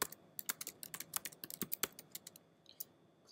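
Typing on a computer keyboard while writing code, a brisk run of about twenty crisp key clicks in an uneven rhythm, close to the microphone with a quiet background and no talking.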